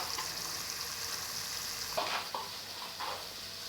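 Spices sizzling in hot oil in a pan while being stirred for a spicy dhaba-style aloo matar curry, a steady hiss with a few brief scraping stirs, no talking.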